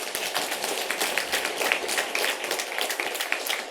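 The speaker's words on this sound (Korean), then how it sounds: "우리 한번 힘내시라고 박수로 격려하겠습니다" Members of a Korean church congregation clap together in encouragement during a Sunday service, a brisk, fairly soft patter of many hands lasting a few seconds at moderate distance.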